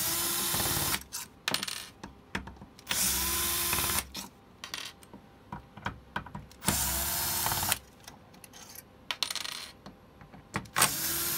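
A power screwdriver spins out the screws of a DIY electronics kit housing for a 2019 Dodge/Ram/Chrysler, giving several separate high whirring bursts of a second or two, close up, with short clicks and handling noise between them.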